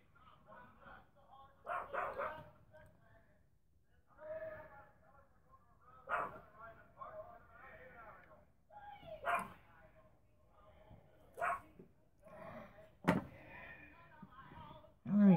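A pet dog barks in short bursts indoors during an acrylic and tattoo-ink dirty pour painting session, with sharp yips and whimpers spaced out across a quiet room, fairly close.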